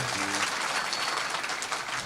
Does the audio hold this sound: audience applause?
yes